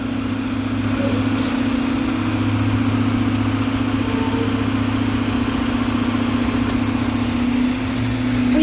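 Truck idling at a condominium work site, a loud steady low engine drone with constant hum that holds unchanged throughout, no speech over it.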